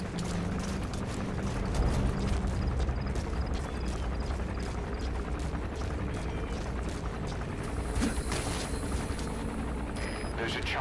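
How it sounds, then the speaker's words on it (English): A helicopter sets down in the Metal Gear Solid V stealth game, a steady rotor rumble and broadband wash holding loud and unbroken throughout, with faint mechanical clinks and a thin high whine rising near the end. "There's a chopper landing."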